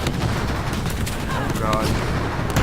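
Shadow of the Tomb Raider gunfire crackles and booms continuously in a busy in-game battle, with scattered sharp shots over a dense rumbling background and voices mixed in.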